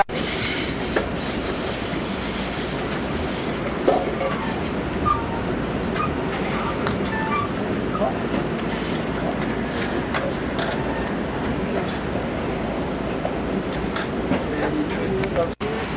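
An Amtrak California Zephyr passenger train rolls on rails departing Omaha, Nebraska, a steady loud interior rumble with faint clickety-clack and occasional squeals, heard under talk.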